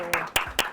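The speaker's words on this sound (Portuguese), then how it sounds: "uma salva de palmas para ela" A small group gives a round of applause for a presenter named Amanda at a business talk, heard as three short, sharp bursts of claps close by, each fading quickly.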